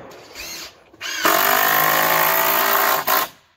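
A power drill with a Torx tip drives coarse deck screws, giving a couple of short whirs, then running steadily at high speed for about two seconds before stopping with a brief final burst.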